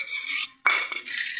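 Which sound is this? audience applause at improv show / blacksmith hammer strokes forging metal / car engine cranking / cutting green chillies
cutting green chillies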